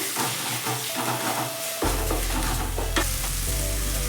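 Chopped tomato fries in a pan, a dense close sizzle that jumps louder partway through with scattered stirring clinks and scrapes.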